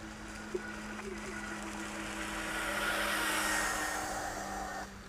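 A ProBoat Jetstream RC boat runs on open water, its steady high-pitched motor whine swelling slightly louder midway and then easing off, alone without talk.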